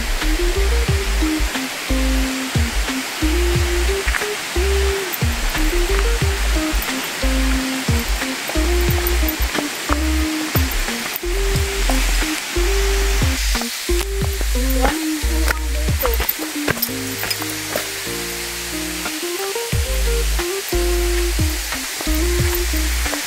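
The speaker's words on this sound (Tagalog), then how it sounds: "Naririnig ko yung agos dito, yung lagaslas ng tubig." Steady broadband rushing of a stream flowing near a waterfall on a farm lot in Guinyangan, Quezon, continuous throughout with no talk, overlaid by some stepped tonal sounds.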